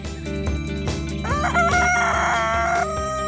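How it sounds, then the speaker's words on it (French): An Onagadori rooster crows once in a garden, a drawn-out cock-a-doodle-doo rising over steady background music, fairly close and clear. "J'ai entendu Fuji, notre coq Nagadori, qui vient de chanter"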